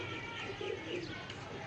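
Breeder pigeons coo softly in a loft, a low murmuring cooing that runs steadily through the short stretch alongside faint chirps.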